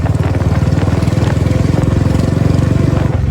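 A Royal Enfield Bullet motorcycle fitted with a firecracker silencer exhaust thumps close by in a fast, even, loud pulsing beat, steady throughout with no talking.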